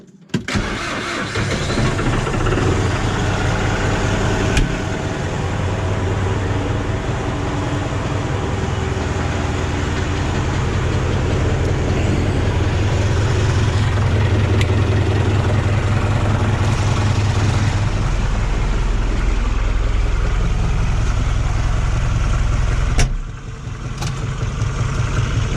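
A truck engine cranks and starts, then runs steadily at a loud, rough mid-pitched idle close by for about twenty seconds before dropping lower near the end.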